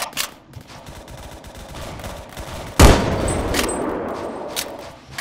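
Gunfire in the video game Phantom Forces, a sharp loud burst of shots that hits abruptly midway and then trails off under faint scattered game noise, with a few lighter shots earlier.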